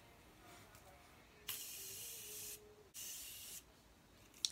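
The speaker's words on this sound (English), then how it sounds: "a little bit of Morphe setting spray" Two broad bursts of fine Morphe setting spray hiss, each lasting about a second, close and fairly loud against a quiet background.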